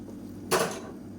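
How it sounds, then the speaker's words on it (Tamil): Water poured into a pot of nookal (kohlrabi) kurma after sautéing, a single short splashing gush lasting under half a second, close and fairly loud against a quiet kitchen background. "இப்போ குருமாவுக்கு தேவையான தண்ணி சேர்த்துக்கலாம்"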